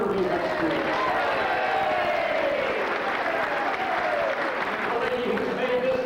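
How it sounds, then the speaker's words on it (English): A large audience at a Riverview High School event applauds steadily and loudly throughout, a dense continuous wash of clapping with crowd noise and some voices mixed in. "let's have a round of applause for the guilty man of Riverview High School."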